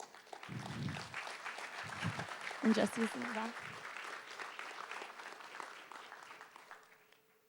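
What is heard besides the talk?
audience applause for the team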